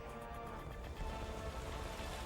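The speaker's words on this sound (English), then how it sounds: "It's raining on the moon." Steady rain falls on the moon in a Doctor Who scene, a dense, continuous hiss of drops with low rumbling underneath, holding at an even level for the whole stretch.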